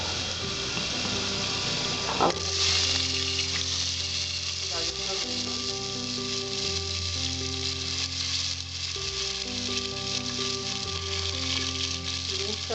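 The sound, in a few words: vegetables frying in a pan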